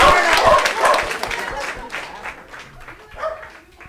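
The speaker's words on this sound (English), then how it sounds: "Big round of applause for Joe and for the efforts of the Saba Cons" An audience breaks into applause after a conservation talk, a burst of clapping that is strongest at the start and thins out over a few seconds, with some scattered voices and noises mixed in.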